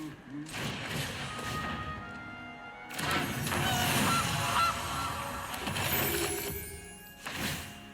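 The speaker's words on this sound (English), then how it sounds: "Bring out the goose." Goose honks from a historical strategy game unit, several loud calls over busy battle noise and game effects, with someone talking throughout.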